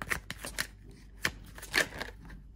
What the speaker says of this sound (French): je vais tirer simplement avec les cartes